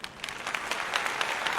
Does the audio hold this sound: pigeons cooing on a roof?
no